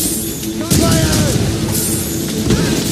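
Cannon fire in a naval battle between sailing ships in Assassin's Creed Rogue: heavy booms and bursts rumble continuously under shouted crew voices.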